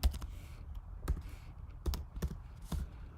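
Someone types on a computer keyboard in a quiet room, a few sharp isolated key clicks and short bursts spaced irregularly, faint and close with no talk.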